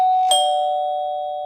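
A doorbell opens a song intro, ringing a clear electronic chime struck twice in quick succession, with the sustained tone ringing out and slowly fading.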